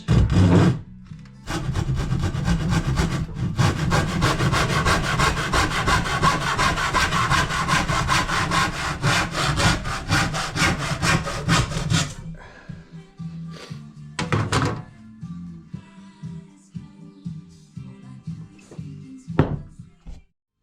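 Handsaw cutting wood during a porch and fence build, a loud, rhythmic rasping series of back-and-forth strokes for about ten seconds, followed by scattered knocks and handling thuds.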